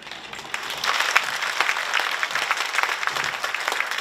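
An audience bursts into warm applause for flute and piano performers at a concert, the clapping starting faint and swelling into a steady, dense round.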